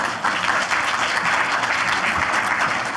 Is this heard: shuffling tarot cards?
no